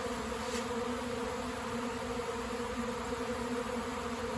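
A honeybee swarm fills a garage with a dense, continuous buzzing drone, loud and close, with no voices.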